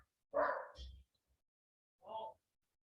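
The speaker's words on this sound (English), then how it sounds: "my dog is probably barking at the mailman right now" A pet dog barks indoors, apparently at the mailman: two short, clear bark bursts close together, then a third after a brief pause, with no talk over them.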